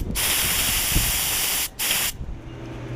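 A paint spray gun hisses steadily while coating a 1976 Honda XL175 engine, the broad spray cutting out briefly near the end before resuming, then stopping, leaving a quieter low hum.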